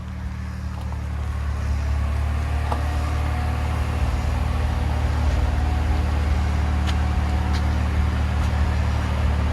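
A 2005 Hyundai Tiburon GT V6 turbo with dual exhaust and the muffler deleted runs steadily close by, a low, even droning exhaust that swells slightly in the first seconds and then holds level, with no talk.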